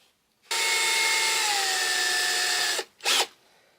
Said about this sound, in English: I think there's 1, 2, 3, 4, 5, 6, 7, 8, 9, 10, 11 pins that I'm drilling out on this.